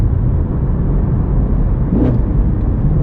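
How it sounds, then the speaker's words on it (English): Loud, steady naturally aspirated engine drone from inside a moving Mustang GT350 or Camaro 1LE, a low continuous roar with a brief rise in pitch near the end. "This is the best NA engine I've ever heard in person."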